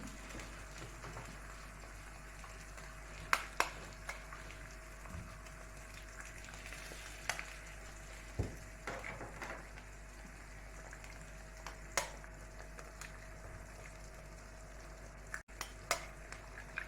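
Eggs fry in a pan with a soft, steady low sizzle, broken by occasional sharp clicks and taps of a utensil against the pan.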